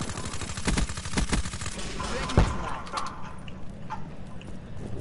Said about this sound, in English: Way too many shots.